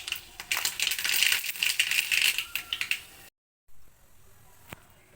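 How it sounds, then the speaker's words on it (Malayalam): Mustard seeds pop in hot oil in a pan for a quick okra pickle. A dense, loud crackling spatter runs for about three seconds, then cuts off, leaving faint, sparse pops. "ഇപ്പോൾ കടുക് പൊട്ടി"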